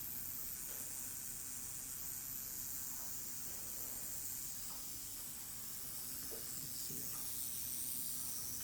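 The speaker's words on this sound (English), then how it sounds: "Oh, that rattle just sounds amazing." A western diamondback rattlesnake (Crotalus atrox), agitated, buzzes its rattle in a continuous high, dry hiss that persists quietly and fairly close, with a few faint knocks and handling noises in the background and no speech.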